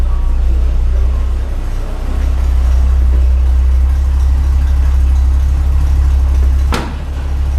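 Grain truck engine idling with a deep, even low rumble, steady throughout with a brief dip near the start and a sharp click near the end.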